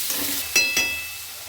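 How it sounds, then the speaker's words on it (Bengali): Potatoes frying in a wok get stirred, two short scraping strokes rising over a low, steady sizzle of hot oil. "আলুটা খুব ভালো করে নেড়ে দেখাচ্ছি"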